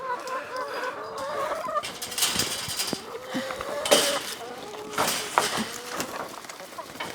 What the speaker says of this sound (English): let's let the chooks out